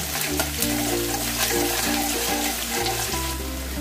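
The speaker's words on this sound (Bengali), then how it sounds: "এই পেঁয়াজটা ভাজার সময় আমি অল্প একটুখানি চিনি দিয়ে দেবো" Onions with a little sugar fry in a pan for a Bengali aar fish curry, making a dense, continuous close sizzle and crackle with faint stirring and no talk.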